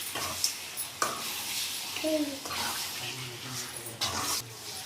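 Chicken liver frying in a pan being stirred: soft sizzling under a few scraping stirs and clinks of a spoon against the pan, close and moderately quiet, with no talk.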